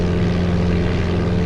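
Cessna propeller engine from the video game Flight Simulator 95 gives a steady, loud droning hum with a low pulsing buzz. It holds constant for the short stretch with no talking.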